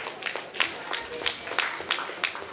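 Audience applause at an award ceremony, a short burst of scattered hand claps in an irregular rhythm, moderately close and fairly thin, like a small crowd.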